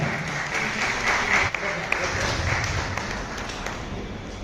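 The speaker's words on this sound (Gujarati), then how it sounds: "ફેશન સિલેક્ટ માટે જોરદાર તાળીઓ થઈ જાય" An audience applauds at a community award and felicitation ceremony in Bhavnagar, with steady, fairly loud clapping that continues for several seconds and a few sharper taps standing out.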